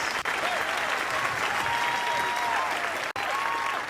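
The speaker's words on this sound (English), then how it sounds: "And then let's give a round of applause to the judges." Applause for the judges at a live indie game pitch contest, a continuous crowd of clapping that stays loud and even, with a few faint voices mixed in.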